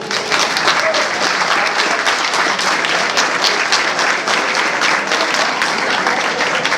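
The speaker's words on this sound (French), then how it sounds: "je vous demanderai de bien vouloir applaudir à nouveau" Audience at a Front National political rally in Beaucaire applauding loudly and steadily, dense sustained clapping filling the room throughout.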